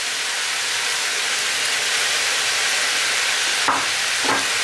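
Pointed cabbage with salt stirred in a frying pan, a steady close sizzle running throughout with a couple of brief scraping stirs near the end.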